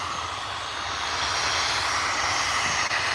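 An Aer Lingus airliner taxis slowly at Liverpool Airport, its engines making a steady, broad roar and hiss at moderate distance that swells a little partway through and carries on unbroken, with no voices.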